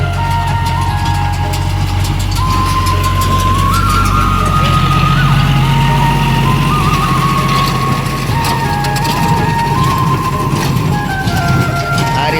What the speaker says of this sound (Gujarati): જો મિત્રો આ ટ્રેક્ટર ચાલુ છે